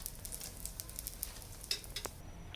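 Shawarma bread heats on a hot pan, giving a soft, steady sizzle with faint crackles and a few small ticks. It stays quiet and close, with no talking.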